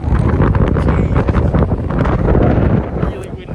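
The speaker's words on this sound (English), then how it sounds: "Really windy." A strong, icy wind on a hike buffets the microphone with loud, gusting roars and rumbles that surge and ease over a few seconds. A voice can be heard under the blasts.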